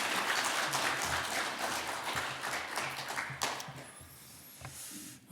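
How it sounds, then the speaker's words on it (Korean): A church congregation applauds during a Sunday afternoon worship service. The clapping is dense and steady at first, then thins out and fades over about five seconds, ending with only a few scattered claps. "박수 한번, 축복의 박수 한번 올립시다."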